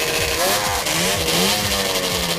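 A loud two-stroke snowmobile engine buzzes and revs close by, a raspy high-pitched drone that stays strong throughout.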